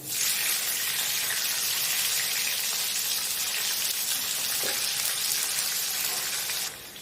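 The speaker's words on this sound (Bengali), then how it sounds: "আদা রসুনটা সামান্য একটু লাল লাল করে ভাজা হয়েছে তারপরে আমি দিয়ে দেবো ক্যাপসিকাম" Ginger, garlic and capsicum fry in a pan, giving a steady, loud, bright sizzle that runs continuously throughout with no talking.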